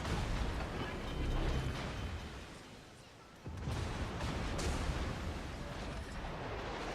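Naval guns boom repeatedly in a warship clan battle game, dense rumbling blasts filling the scene with a brief lull before another heavy salvo.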